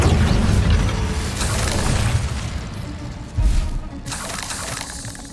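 Confringo spell blast in Hogwarts Legacy, a loud booming burst with crackling debris and a second sharp explosive thump partway through, set against game ambience.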